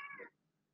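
A pet cat lets out a short meow at the start, clear and fairly close, then fades into quiet room tone.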